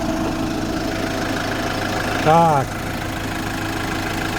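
An Iveco Daily van's diesel engine idles with a steady low rumble close by; someone says a brief word partway through.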